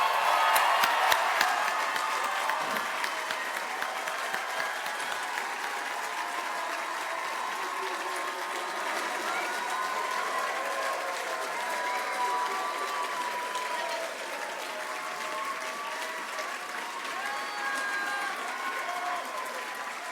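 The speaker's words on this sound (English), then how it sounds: "give a big round of applause, perhaps some whoops" Graduation ceremony audience at a university department fills the hall with sustained applause and scattered whoops, loud and steady for about twenty seconds, with no speech over it.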